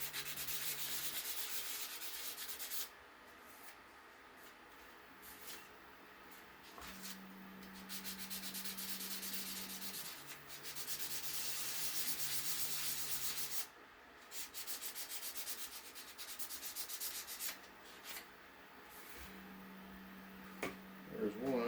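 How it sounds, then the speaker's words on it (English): Logos being sanded with 600-grit sandpaper, a close, continuous scratchy rubbing in repeated strokes with brief pauses, over a low steady hum. "I got some 600 sandpaper here. I'm going to try to give them a little get going on here."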